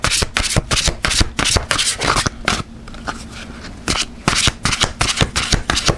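Deck of tarot cards riffled and shuffled by hand, loud close crisp rapid flutters in repeated bursts with a short pause midway, no talking.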